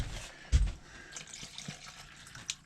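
Water is poured into whiskey, a brief splash and gurgle followed by faint trickling and a couple of small drips, quiet and close.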